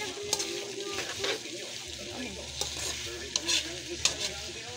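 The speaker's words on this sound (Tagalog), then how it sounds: "Halo-haluin para po mas ma-absorb niya po yung yung butter. Yung butter cream." Butter cream mixture being stirred and sautéed in a pan, a faint steady sizzle with occasional soft scraping and clinks of a utensil against the pan.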